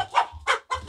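A rooster gives three short, loud clucking calls in quick succession, close by, with no talking over them.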